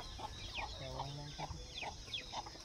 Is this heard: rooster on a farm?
yes